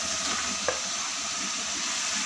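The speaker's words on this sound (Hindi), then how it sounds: "ये फ्राई की हुई चिकन डाल देंगे" Fried chicken pieces go into a pan of frying masala with a little added water for chicken bhindi, giving a steady broadband sizzle with one brief sharp hiss of contact, moderately loud and with no talking.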